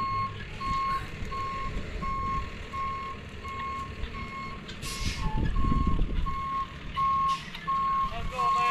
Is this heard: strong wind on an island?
no